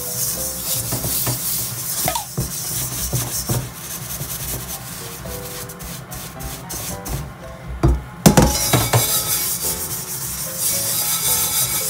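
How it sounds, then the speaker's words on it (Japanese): Scrubbing burnt-on black residue from the bottom of an iron frying pan, a steady close abrasive rubbing that runs throughout with a few sharper scraping bursts, no voices. "下の底の方はだいぶちょっと焦げ付きがひどいんで、これこの黒い部分を取っていこうと思います"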